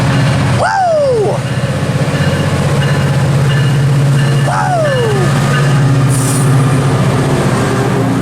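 A Metrolink train passes at a railfanning spot in Commerce or Fullerton with a loud, steady rumble of wheels and engine, while a horn sounds in three separate blasts over it.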